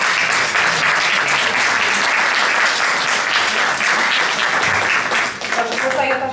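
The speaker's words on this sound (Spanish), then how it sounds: "Un aplauso para ti." Dense, sustained applause from a large audience at a tribute ceremony, loud and steady throughout before thinning slightly near the end.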